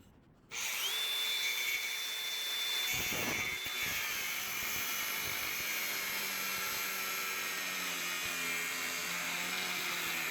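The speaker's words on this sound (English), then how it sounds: "The handy dandy cordless grinder with the cutoff wheel did the job" A cordless grinder with a cutoff wheel spins up with a sharp rising whine and screams continuously, biting into rusted bolts on a farm flat deck trailer frame, loud and close with gritty cutting texture throughout.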